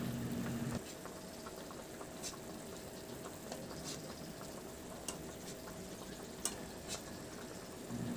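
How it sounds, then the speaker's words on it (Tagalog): Chicken simmers in Sprite and water in a covered pot, giving a faint, continuous bubbling with occasional soft pops and clicks. "Mapakuluan lang ng Sprite yung ating manok."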